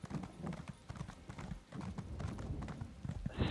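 Video game horse hooves clip-clopping in a steady, fast galloping rhythm, fairly close and at moderate loudness, with faint talk in the background.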